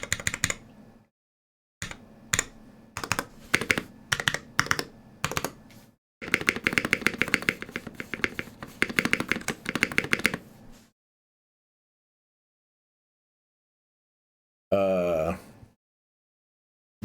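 Holy Panda mechanical keyboard switches clack under quick typing, first in separate short bursts and then in a dense continuous run, close-up, before going quiet; a brief vocal sound comes near the end.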